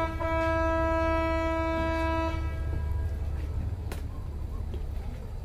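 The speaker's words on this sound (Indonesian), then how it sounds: "Itu bukan klakson mobil ya teman-teman ya, itu adalah klakson kapal." A ship's horn blasts a steady, harmonically rich tone for about two seconds over a low rumbling background, then cuts off, leaving ambient noise.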